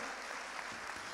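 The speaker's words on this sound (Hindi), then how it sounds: "भरपूर तालियां हमारे पैनल के लिए" Audience applause for a panel after a conference session on Iqbal and Pakistan's ideology, a steady wash of clapping from a crowd, moderately loud and continuous through the short stretch.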